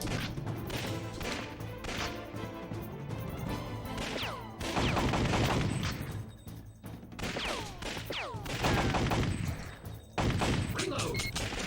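Gunfire in the arcade shooter Time Crisis, loud bursts of rapid shots and crashing impacts in clusters, broken by short pauses, with game voices and a player shouting over the action.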